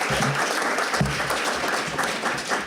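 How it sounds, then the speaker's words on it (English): Audience applause at a poetry reading, a dense, steady wash of many hands clapping close by, lasting throughout at even loudness. "Round of applause for Carolyn, everybody, for putting this on."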